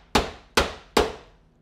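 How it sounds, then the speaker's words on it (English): A hammer strikes weights into a TaylorMade MG3 wedge head three times at a steady pace, each blow a sharp, loud metallic clang that rings briefly and fades, heard up close with no talking. "you can hear the acoustics change slightly when you hit the bottom and hammer home on those grips and on those weights"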